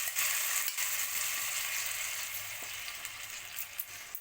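Soaked Gobindobhog rice goes into a pan of frying soybean and potato masala, giving a faint, steady hiss and sizzle with soft stirring scrapes and no talk.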